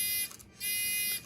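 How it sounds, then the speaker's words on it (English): A littleBits electronic buzzer sounds in two loud, harsh bursts separated by a brief pause. "we can add a buzzer"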